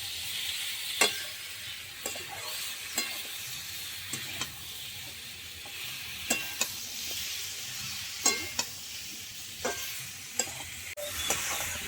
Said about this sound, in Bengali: জিরের গুঁড়োটা দিয়ে একটু ভালো করে কষিয়ে দেবো সবজির সঙ্গে